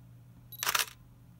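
Nikon camera fitted with a Leitz Wetzlar Super-Angulon R lens: a short electronic focus-confirmation beep, then a sharp mechanical shutter release, close and alone against a faint hum.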